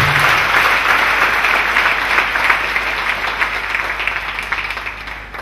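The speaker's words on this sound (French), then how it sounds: "Clap for Jesus again." Congregation in a church service clapping for Jesus, a sustained dense wash of many hands applauding steadily throughout, loud and close with no clear talk over it.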